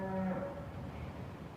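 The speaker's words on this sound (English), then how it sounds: "I've never heard cries like that from cows so far away." A cow lowing from far away outside the gates of a large, thick-walled slaughterhouse, a single drawn-out tonal moo that fades into a steady hiss of outdoor noise.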